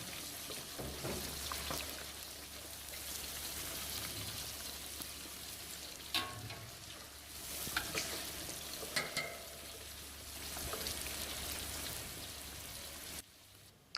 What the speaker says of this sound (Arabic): احنا راح نضيفه مرة ثانية بالزيت على مود يستوي تمام